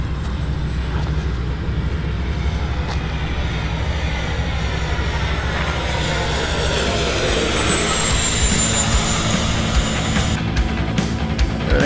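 An FMS F-86 Sabre RC jet flies past right after a runway takeoff with gear raised, its steady turbine whine loud and continuous, a rising high-pitched tone sweeping across as it passes over the field.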